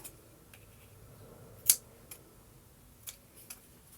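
Scissors snip yarn tails on a punch-needle embroidery hoop. There are several quiet, crisp clicks spread over a few seconds, one sharper than the rest, against a hushed room background with no talking.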